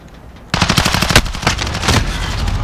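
Rapid bursts of gunfire ring out in a Modern Warfare match, a loud, fast string of pistol shots in quick succession that keeps going with little pause.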